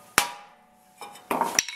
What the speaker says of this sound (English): Now when I say a big hammer, this is kind of what I'm talking about. This is a 4-pound maul.